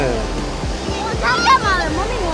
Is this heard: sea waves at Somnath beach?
yes